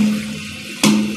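A toilet flush valve releases water into the bowl with a sudden loud rushing surge, then a steady run of water. The surge follows a quiet moment and no one speaks.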